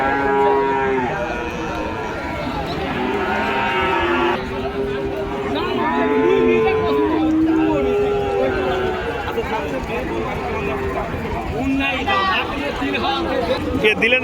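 Cattle, including bulls and calves, moo and low repeatedly amid a busy livestock market in Joypurhat, Bangladesh, with people talking and a crowd murmuring throughout.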